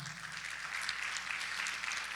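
Church congregation applauding together during a Spanish-language sermon, a steady, dense wash of many hands clapping at moderate loudness throughout, with no voices over it.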